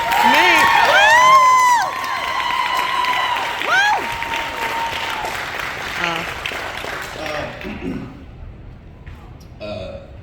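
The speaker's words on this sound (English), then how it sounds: "A big round of applause for our guys." Loud applause and cheering from a convention panel audience at Washington State Summer Con, with whoops and shouts over dense clapping that gradually fades toward the end.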